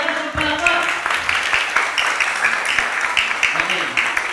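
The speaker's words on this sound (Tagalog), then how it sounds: "Palapakan natin ang inyong mga sarili. Yung malakas ang palakpak." A church congregation claps together in a fairly close, dense burst of applause that carries on steadily, with voices mixed in.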